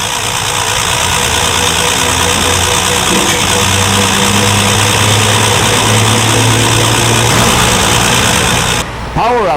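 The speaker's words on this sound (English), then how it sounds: "keep your car engine running smoothly and efficiently" A car engine idles steadily with a smooth, even hum and light vibration, loud and close, ending abruptly near the end.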